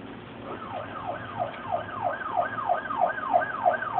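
A wailing siren sweeps up and down in steady, repeated cycles, growing slightly louder as it seems to approach, with no talking.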